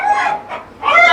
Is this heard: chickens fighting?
yes